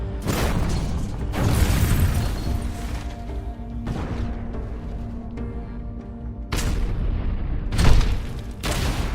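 Heavy explosions from HIMARS strikes on a Russian column near Kleshchievka, several loud booming blasts with rumbling tails, two bursts at the start and more near the end, with crackling debris between.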